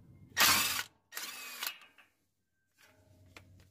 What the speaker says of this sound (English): you're going to use a breaker bar to remove this fastener.